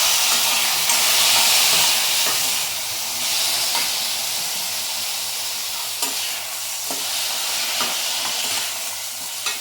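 Steady hiss and crackle of garlic frying in hot oil, with occasional stirring clinks and scrapes; no voices, fairly loud and close.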